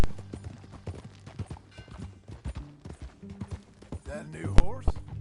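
Horse hooves clip-clop in Red Dead Redemption 2 on PS4, a steady run of near, moderately loud steps with a sharp louder knock near the end, while someone talks over them.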